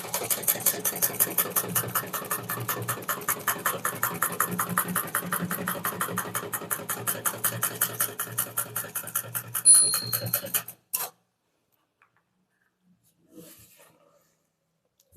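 A manual typewriter taps out an English statement in a fast, steady run of sharp keystrokes with a carriage ring and return near the end, then silence and a few faint clicks.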